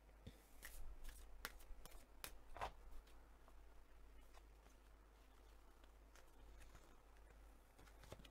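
Tarot cards shuffled and drawn, soft papery flicks and slides in scattered bursts early on, then quieter handling, close but faint over a low steady hum.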